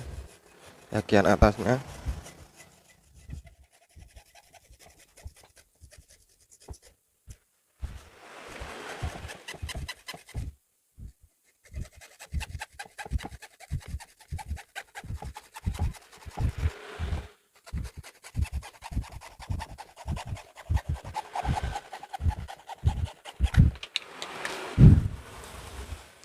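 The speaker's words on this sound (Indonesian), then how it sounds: "Kita gergaji dulu bagian penutupnya" A hand saw cuts through the plastic lid of a dead dry car battery with fast, even, close back-and-forth strokes. Someone talks at the start and at intervals between the strokes.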